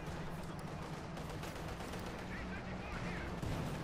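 Rapid gunfire and heavy tank cannon shots crackle in a Company of Heroes 2 battle, Panzer IV and T-34 tanks trading fire, with a steady dense din of combat and a voice talking over it throughout.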